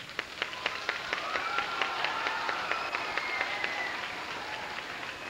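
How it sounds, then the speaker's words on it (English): A school audience in an elementary school gym claps steadily, giving a soft, even patter with a few sharper nearby claps standing out, moderately distant and unbroken. "I think you should applaud yourself for being such a fine audience"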